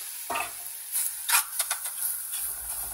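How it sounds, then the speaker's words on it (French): Meat for a Senegalese mafé sizzles in a dry cocotte with no oil, a sharp hiss on contact followed by quieter crackles and a few stirring scrapes, close and fairly soft. "je mets ma viande directement dans ma cocotte"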